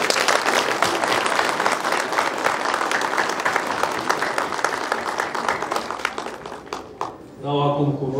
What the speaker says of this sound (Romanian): Haideți să-l aplaudăm încă o dată.